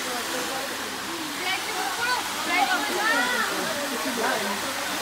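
The Subarnarekha river rushes past fast and steady, a loud, continuous broadband roar of flowing water that fills the whole stretch with no break.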